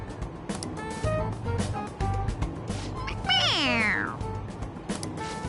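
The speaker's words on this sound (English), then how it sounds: "It meows when you press on its head." A toy cat from the Persona 5 Royal video game gives a drawn-out electronic meow when its head is pressed, rising then sweeping down, set amid game background sound and short voice sounds.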